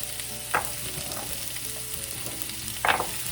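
Zucchini and carrots frying in a pan give a steady close sizzle, broken by two brief scraping stirs.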